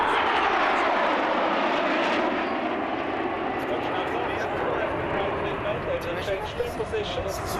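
Swiss Air Force Patrouille Suisse aerobatic jets at an air show display in Great Britain, a loud continuous engine roar filling the whole stretch, steady with slight swells, while a commentator talks over it.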